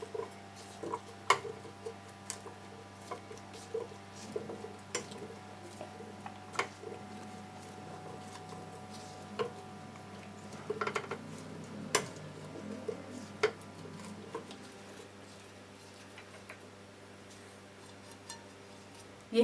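A spoon stirring potato salad with mayonnaise in a bowl, producing faint scattered clicks and soft scraping taps under a steady low hum, quiet and intermittent.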